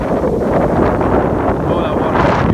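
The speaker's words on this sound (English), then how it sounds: "It is really windy." Strong beach wind at Kure Beach buffets the microphone in a steady, loud roar for the whole stretch, with no clear breaks.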